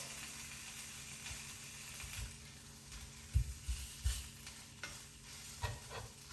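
Rice fries in a slightly worn pan to turn a little crispy, giving a steady, faint sizzle and hiss with occasional soft stirring scrapes and taps, with no talking.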